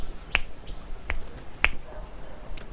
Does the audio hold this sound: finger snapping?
yes